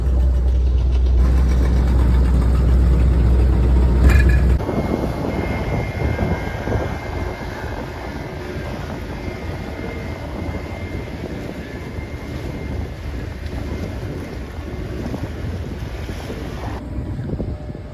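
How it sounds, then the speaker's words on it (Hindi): A tour boat arriving at Komodo Island, its engine a steady low rumble that drops after a few seconds into a broad, continuous wash of water and wind noise, fairly loud and close, with no voices. "हमारी बोट आ चुकी है।"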